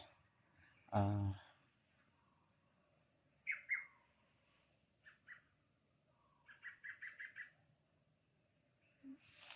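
A bird calls a few times in the distance, short chirping notes and a brief trill, after a single loud thump close by.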